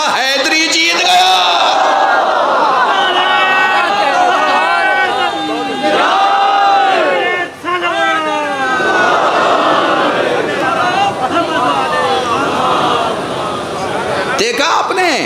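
A large crowd at a religious speech chants slogans together in loud, sustained unison, voices swelling in repeated waves with one brief dip midway.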